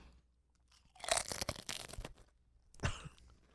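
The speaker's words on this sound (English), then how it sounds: "There's nothing people love more than hearing you crunch into the fucking microphone." Potato chips crunch right against a microphone in a few crisp, close bursts of crackling bites, with quiet gaps between them and no talking over it.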